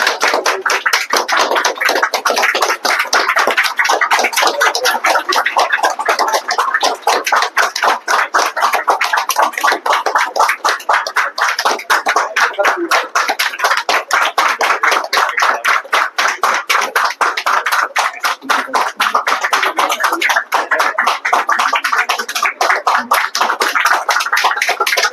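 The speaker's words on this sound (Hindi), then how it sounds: "ताली बजाओ।" An academy audience in Ranchi claps hands continuously, a dense, loud, steady patter of many palms sustained throughout without pause.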